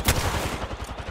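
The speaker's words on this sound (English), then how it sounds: "I'm taking fire." Gunfire in the battle royale video game Apex Legends, a short burst of rapid shots that sounds fairly close and stands alone without talk.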